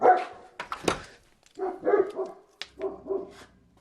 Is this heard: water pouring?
no